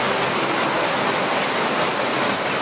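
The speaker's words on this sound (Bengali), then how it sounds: "দেখুন কীভাবে বৃষ্টি হচ্ছে।" Torrential downpour in Berachampa, Deganga: a steady, unbroken hiss of heavy rain, loud and close, with no voices over the brief stretch.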